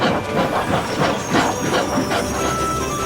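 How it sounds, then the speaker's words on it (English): Steam engines haul a heavy train out of a platform in a simulated railway scene, giving a steady loud hiss of steam with rhythmic chuffing pulses throughout. "as the heavy train drew out of the platform"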